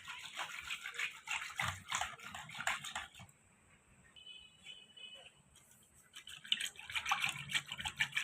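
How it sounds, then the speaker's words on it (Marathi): Piyush, a chilled sweet drink with saffron strands, is churned by hand to raise bubbles, giving a brisk, close swishing and sloshing that comes in bursts, pauses in the middle, then resumes under a voice. "बघा असं छान आपल्याला वरती असे बुडबुडे आले पाहिजे असं आपल्याला घुसळायचं आहे"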